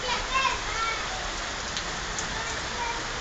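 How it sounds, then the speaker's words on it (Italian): Steady rain falls in Rome, a continuous even patter and hiss on surfaces, moderately faint and unbroken throughout. "Non si vede quanto piove."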